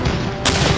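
Forty-odd cannons firing at once against a wall, a dense, loud roar of blasts with a sharp fresh burst midway, no talk audible.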